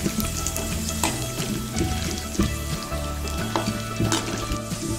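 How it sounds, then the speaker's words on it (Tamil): A handful of curry leaves fry crisp in hot oil for ragi pakoda, a loud close crackling sizzle with bursts of popping and stirring clatter throughout, no talk. "பாருங்க ஒரு கைப்பிடி கருவேப்பிலை வச்சுருக்கேன். இது கூட நல்லா மொறுமொறுன்னு வறுத்து இதுக்குள்ளே போட்டுக்கலாம்."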